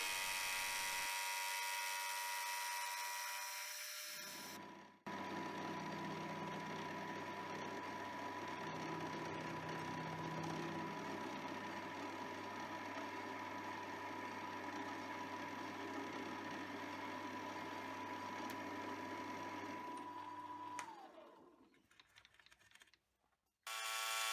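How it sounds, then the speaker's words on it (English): A lathe's automatic feed slowly drives a workpiece under a spinning face mill on a hand vise project in a home shed workshop, a steady loud mechanical whir and hum running for about sixteen seconds before winding down. "I'm using the lathe auto feed to feed the material under the face mill."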